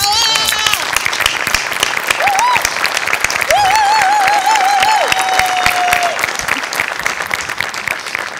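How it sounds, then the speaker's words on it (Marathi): A studio audience of the Marathi comedy show Maharashtrachi HasyaJatra rises in a standing ovation, dense sustained applause filling the room loudly throughout, with cheers and whistles rising over the clapping. "सचिन गोस्वामींसाठी उभं राहून टाळ्या वाजव"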